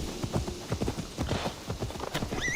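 Horse hooves clip-clop in Assassin's Creed Valhalla, a quick, close rhythmic patter of hoofbeats with a brief whinny-like tone near the end.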